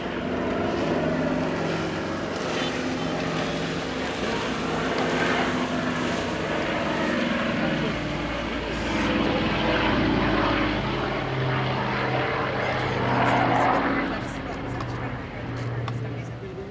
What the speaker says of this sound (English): C-123 Provider